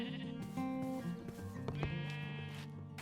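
Sheep bleating in a video game, several loud wavering bleats close by, overlapping one another with no talk.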